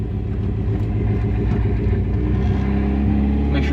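A Mazda Miata's engine rumbles and revs up close from inside the car as it pulls away on its first drive, a steady low drone rising slightly in pitch toward the end.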